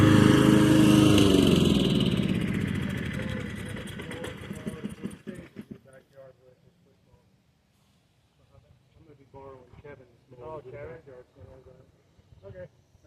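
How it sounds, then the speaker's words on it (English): A Craftsman riding lawn mower runs loud and close, its engine roar then fading away into quiet as it moves off, followed by faint background sounds. "It's a really nice lawnmower"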